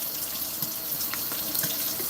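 Tap water runs steadily into a sink, a continuous close hiss and splash with no talking.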